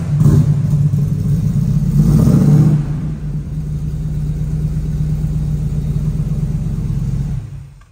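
Holden Commodore VK SS V8 revving close up, a loud deep rumble swelling to a peak for the first few seconds, then settling into a steady throbbing idle before cutting off.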